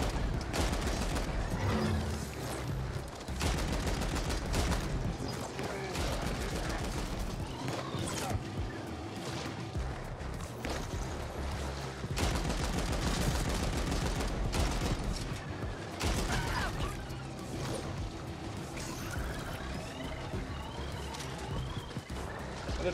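Turrets keep up rapid automatic gunfire in the sci-fi shooter The Ascent, dense bursts layered into a loud, busy game mix with music and effects, and a voice talks over parts of it.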